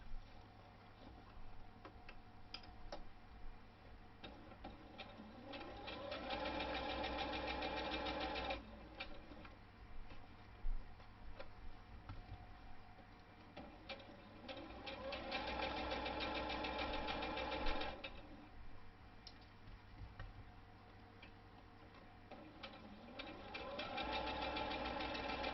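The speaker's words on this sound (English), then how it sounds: "pin and then sew round using 1/2 inch seam allowance" A sewing machine sews a fabric seam on a tablet cover at a half-inch allowance. Steady mechanical whirring comes in long bursts of several seconds separated by short pauses, close up and without speech.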